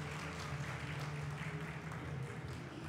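Soft applause for three conference panelists, a faint, steady patter of clapping from an audience at a business seminar.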